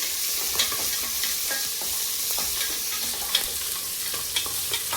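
Ingredients for goat intestine soup sizzle steadily in a pan, close and fairly loud, with repeated sharp scrapes of a spoon stirring through the hiss.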